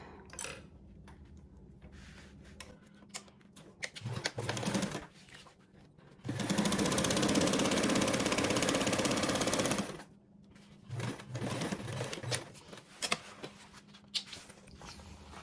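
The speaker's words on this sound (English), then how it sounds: "Go ahead and top stitch this." A sewing machine top stitches a seam of a garment in one steady, fast whirring run lasting a few seconds, framed by quieter handling clicks and fabric shuffling before and after, no voices.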